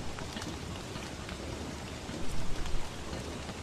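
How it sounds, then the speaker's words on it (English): Steady rain falls in the survival game Don't Starve, a dense continuous hiss of drops on the ground that swells briefly louder before settling, with no talk over it. "A couple of days in a row of rain here."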